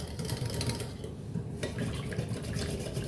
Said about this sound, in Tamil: இதையும் நல்லா மிக்ஸ் பண்ணிக்கணும்.